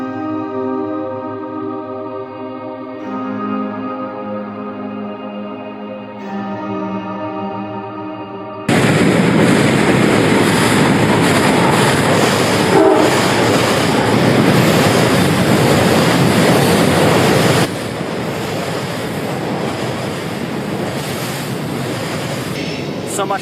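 A train passes near a fishing spot, first a long sustained horn blast with layered harmonic tones, then the loud, broad roar and rumble of the cars rolling by, steady and close for many seconds.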